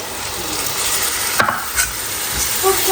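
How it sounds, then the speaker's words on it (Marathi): Tomato puree being stirred into masala frying in a pan, with a steady broad sizzle throughout and a few scraping stirs of the spoon, close and without speech. "हे मिक्स करून झालं ना तर यामध्ये आता आपल्याला टोमॅटो प्युरी टाकायची आहे"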